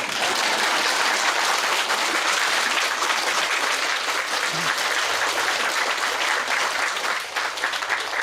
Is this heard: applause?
yes